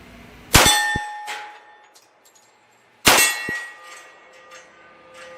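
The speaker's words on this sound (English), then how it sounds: "let's go to that little bit smaller circle gong to the right there" Two sharp metallic clangs from a military-style 1911 pistol's rounds striking a small circular steel gong target, each a loud impact with a ringing decay, about two and a half seconds apart at an outdoor range.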